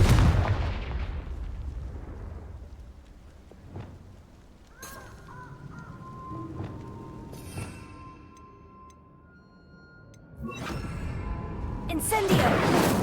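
Confringo fire spells burst in Hogwarts Legacy, a loud blast at the start followed by several sharper cracks and booms scattered through the stretch, with magical tones ringing between them and another heavy burst near the end.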